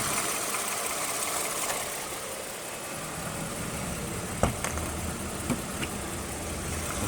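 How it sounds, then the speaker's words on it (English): A 2010 Lexus RX350 engine idles steadily up close with its hood open, a constant low hum with a few faint clicks and taps near the end and no talk. "still the engine doesn't make quite much of noise"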